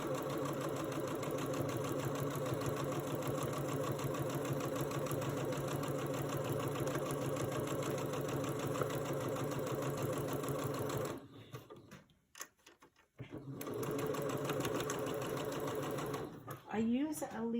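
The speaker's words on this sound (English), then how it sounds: "we're going to stitch 1/4 inch along that line." Sewing machine running a quarter-inch seam on quilt pieces, a steady continuous whir for a long stretch, then a brief stop and restart near the end.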